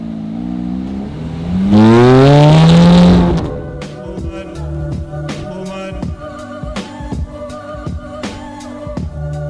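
A Ferrari F430 engine is taken to full throttle, rising in a loud, sharp wail for a couple of seconds before backing off into a burbling idle with crackles and pops.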